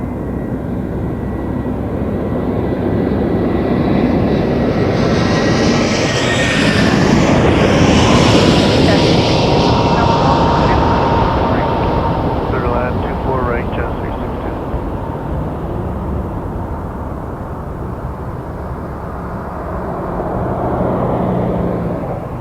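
A Jazz airliner takes off from runway 24 right at Toronto Pearson airport. The engines make a loud, sustained roar that swells and then slowly fades as the plane climbs away.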